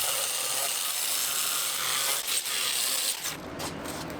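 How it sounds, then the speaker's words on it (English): Rusted metal on a classic car body is sanded, giving a continuous close abrasive scraping that holds steady for several seconds with a brief stutter near the end. "now that this is all sanded down"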